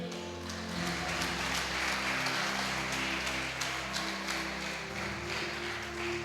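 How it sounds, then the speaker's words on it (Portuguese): Church congregation applauding for Jesus during a Portuguese sermon, a steady wash of many hands clapping at moderate level, set over a sustained organ or keyboard chord that shifts in pitch. "Aplaude a Jesus"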